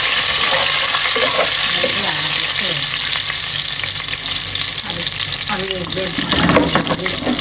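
Chilies sizzle and crackle loudly in hot oil in a pan as they fry for Nepali-style rajma chawal, a dense continuous spitting hiss with occasional stirring scrapes and faint speech underneath.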